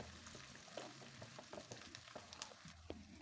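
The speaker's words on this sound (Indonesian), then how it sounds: "Ini kita goreng ya sampai wangi, sampai warnanya berubah kuning kecoklatan." Thinly sliced garlic frying in hot oil gives a faint, steady sizzle with scattered small pops and crackles and no voices.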